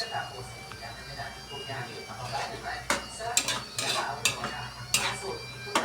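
Spoon stirring a cooking pot of soup with moringa leaves and a little broth in a home kitchen. It makes irregular metallic scrapes and clinks against the pot, with someone talking over them.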